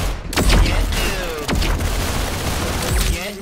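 Gunfire in the Roblox game Arsenal, loud booming shots and bursts over continuous game noise, close and dense.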